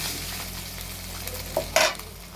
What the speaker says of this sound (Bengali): একে একে সবগুলো মাছ ভেজে নিয়েছি